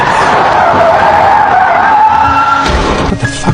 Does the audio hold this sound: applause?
no